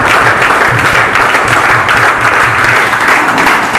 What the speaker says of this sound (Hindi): जोरदार तालियां होनी चाहिए आप सभी की तरफ से